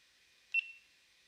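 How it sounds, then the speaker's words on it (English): A single short electronic beep from a GoPro Hero 8 camera, fairly faint, over a steady high-pitched hiss, with no other sounds around it. "I'm actually not minding the beeps."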